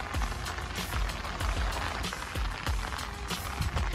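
Rain falls outdoors beside a truck, a steady patter with repeated soft thuds and drips that stay fairly loud throughout.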